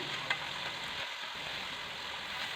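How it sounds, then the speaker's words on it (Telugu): Tomato pieces stirred in a hot pan for tomato curry give a steady, soft sizzle with faint scraping throughout, quiet and close. "ఇప్పుడు అన్నీ ఒకసారి బాగా కలుపుకోవాలి."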